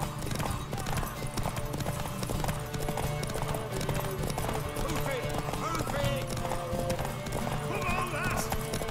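Horse hooves clip-clopping in The Witcher 3: Wild Hunt, a steady trotting rhythm under game music and an occasional whinny, with a voice talking over it.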